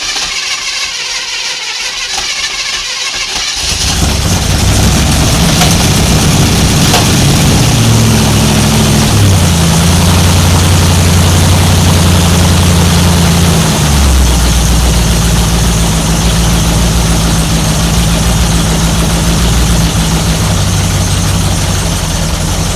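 A 1955 Chevy with a 265 V8 cranks and catches on its first start, then runs loud and close at a high fast idle with a steady low rumble that settles slightly lower toward the end.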